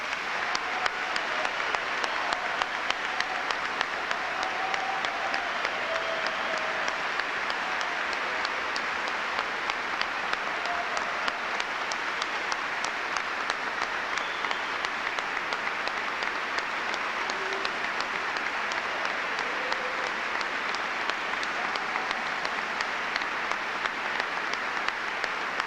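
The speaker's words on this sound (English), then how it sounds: "Let us all give them a rousing round of applause." Sustained applause fills a commencement ceremony, a steady dense clapping from a large audience that holds at an even level without pause for nearly half a minute.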